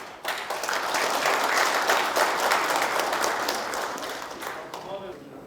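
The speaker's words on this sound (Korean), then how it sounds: "큰 박수로 부탁드리겠습니다." At a press luncheon marking the Gyeongju mayor's first anniversary in office, a roomful of guests breaks into loud, dense applause that swells quickly, holds steady and then thins out toward the end.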